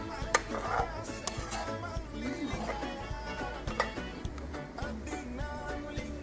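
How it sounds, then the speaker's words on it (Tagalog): Pineapple chunks stirred in a pan, with steady clinks and scrapes of a utensil against metal over a continuous low kitchen background, close and moderately loud throughout. "Gisa natin."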